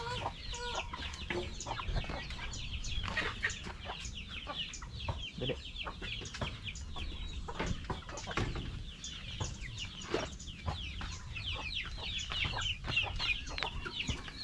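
Several free-range hens and a large rooster cluck repeatedly in short, irregular bursts nearby, with a steady farmyard background and occasional flapping.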